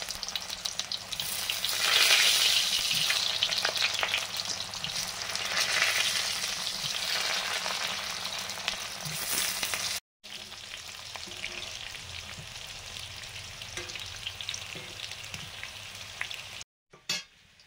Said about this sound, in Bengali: এবারে সেদ্ধ করা আলুগুলো ভেজে নিচ্ছি